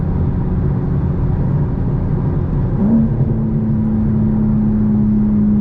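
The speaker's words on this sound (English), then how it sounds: "So obviously you can tell valves are open now." A 2024 BMW M4 Competition xDrive gives a steady, loud engine drone with a deep exhaust rumble, its exhaust valves open, holding a constant pitch that steps up slightly partway through; no voices.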